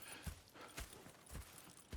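Horse hooves clip-clop in the Red Dead Redemption 2 video game, several spaced thuds at an even walking pace, fairly faint and alone with no talk.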